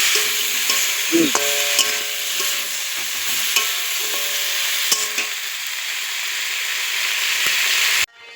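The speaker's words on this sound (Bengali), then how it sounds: "এই যে ফুলকপি সবজি বসিয়ে দিয়েছি আমি" Cauliflower and mixed vegetables frying in a pan, a steady close sizzle with stirring and clinks of a utensil against the pan, running throughout before cutting off at the end.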